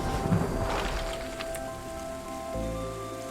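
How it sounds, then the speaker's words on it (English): Rain falling in the video game Terra Nil, a steady soft hiss of rainfall with a faint thunder-like rumble and droplet ticks, continuous and moderately quiet behind game ambience, no speech. "Oh, here comes the rain again."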